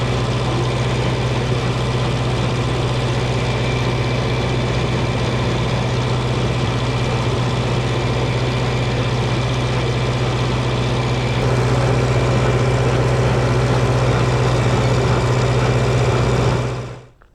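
John Deere S760 combine engine running during a soybean harvest, heard from inside the cab as a loud, steady low drone with a constant hum that rises slightly near the end before cutting off abruptly.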